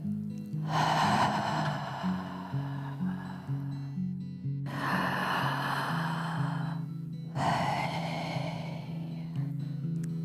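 Three long, deep breaths follow one another, each a broad airy rush lasting a few seconds, loud and close, over a steady low background hum.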